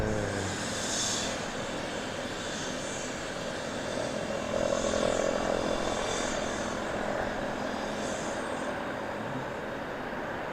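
An Airbus A320neo airliner arriving at Southend Airport roars steadily at a distance, its engine noise swelling slightly in the middle and holding on throughout with no voices.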